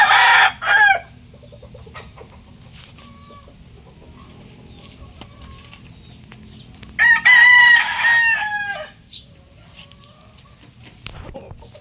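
A rooster crows loudly twice, once at the start and again later, with soft clucking from chickens in the quiet gaps between, ahead of an approaching typhoon.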